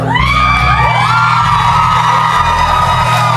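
A late-night talk show studio audience erupts in loud, sustained screaming and whooping, high shrieking voices overlapping in a dense, continuous wall of crowd noise.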